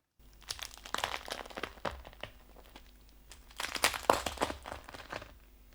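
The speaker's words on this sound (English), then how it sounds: "Place the top on, and then you have the crunch." A topping crunches as it is placed on a salad dish, a burst of close, dry crackles and crinkles in irregular clusters, loudest near the end, with no talk.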